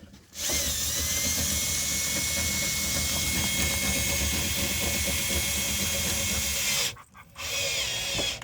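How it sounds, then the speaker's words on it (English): A cordless drill driving a screw whirs steadily for several seconds, stops briefly, then starts again, loud and close. "I found it easier to use a cordless drill"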